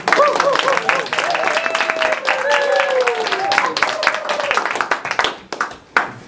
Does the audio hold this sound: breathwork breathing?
no